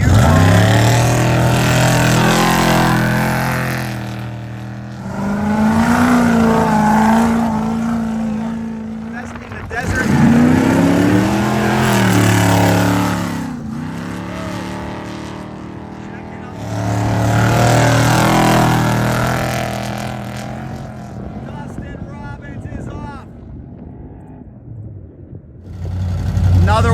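Powerful Renegade-class racing trucks roar and rev in loud, rising and falling engine bursts separated by brief lulls, with a voice talking over parts of the noise.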